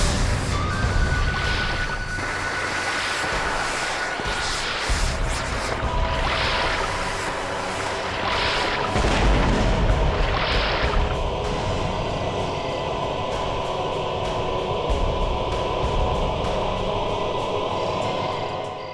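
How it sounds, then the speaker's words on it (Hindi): Dynamite blasts used for fishing on a river at night in a TV drama: a series of muffled booms and crashes rise out of a steady roar of rushing water and noise. "लगता है मच्छी पकड़ रहे हैं। डायनामाइट से?"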